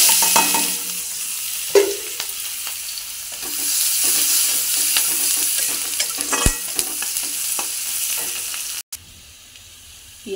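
Onions frying and being stirred in a pan of hot oil while cooking fish curry, with a steady close sizzle and scattered scraping, clinking stirs, and a brief sharp knock near the end.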